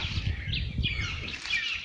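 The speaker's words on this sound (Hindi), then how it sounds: "तो पक्षियों का चहचहाना," Birds chirping among Arjun trees on a river island, with scattered high twitters and calls over a rustling, breezy outdoor background at moderate volume.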